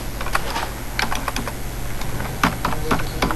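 C++ code typed on a computer keyboard, close, steady irregular keystrokes clattering over a constant background hum, with no talking.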